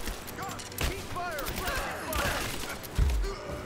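Bursts of gunfire fill a firefight in Rise of the Tomb Raider, scattered shots and volleys over shouting enemy voices and combat ambience, with a heavier blast near the end.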